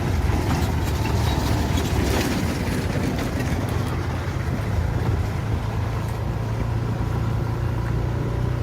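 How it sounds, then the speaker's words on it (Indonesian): Sugarcane lorry locomotives number 2 and number 6 run along a narrow-gauge plantation track, giving a steady, loud low rumble and grinding roll that continues throughout with no pauses. "kita mengikuti perjalanan lokomotif nomor 2 dan nomor 6 di depan kita ini, menjemput lori berisi tebu"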